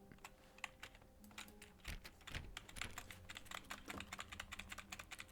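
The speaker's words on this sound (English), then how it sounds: "I make keyboard sounds." Computer keyboard typing in the video game The Stanley Parable: rapid, irregular clacking keystrokes in quick bursts, close and crisp over a faint low hum, no voices.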